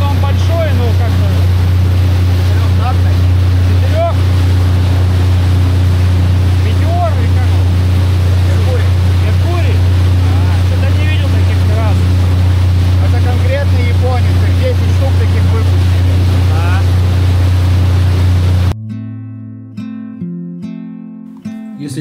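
Motorboat with a large outboard motor on the Yenisei River, a loud steady low drone with water rushing and wind noise, running continuously before cutting to music at the end.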